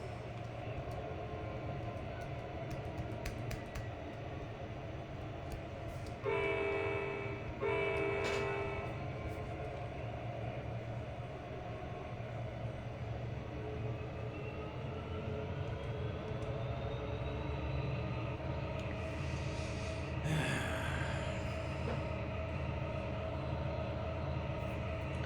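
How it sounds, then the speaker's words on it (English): A locomotive in the Trainz 2022 railway simulator rumbles steadily at moderate volume, with a pair of short horn blasts partway through and a brief higher whine later, no talking. "The sound's not the greatest on this locomotive."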